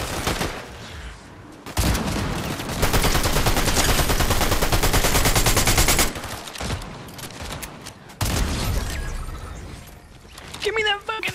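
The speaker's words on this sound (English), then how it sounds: "They shot the shit out of me, bruh." Bursts of rapid automatic gunfire in the Fortnite video game, loud and sustained volleys with brief pauses between them, mixed with game effects and a voice talking over parts of the shooting.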